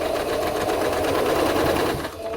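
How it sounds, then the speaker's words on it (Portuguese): A sewing machine runs steadily close by, stitching fabric with a rapid, even mechanical chatter that eases slightly at the very end. "E vai costurando."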